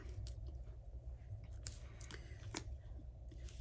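Scissors snip around a stamped paper image for a card, a quiet string of short crisp cuts at an uneven pace, close by, over a low steady background hum and with no talking.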